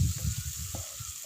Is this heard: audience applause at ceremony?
no